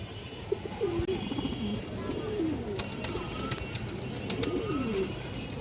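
Male pigeons coo repeatedly in soft, low, throaty calls, some close and others farther off, over a constant hum.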